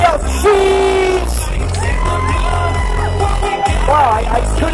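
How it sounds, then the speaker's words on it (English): An audience member at a 2013 bartenders' flair competition lets out a loud exclamation, heard through pounding music and lively crowd noise. "Somebody yells, "Sheesh!""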